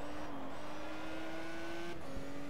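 A Ferrari race car in the racing game GTR2 at Circuit de Catalunya, its engine holding a loud steady drone with a brief pitch dip as it shifts gear partway through, no talking.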